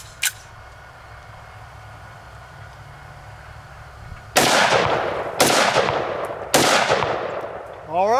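A Desert Eagle pistol fires three sharp, loud shots at uneven intervals, outdoors after a mud torture test, each crack followed by a short echo, with a metallic click near the end.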